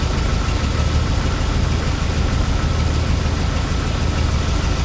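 A Jeep Wrangler with a failing head gasket idles close by with one fuel injector unplugged, giving a loud, continuous rough rumble with an uneven knocking pulse.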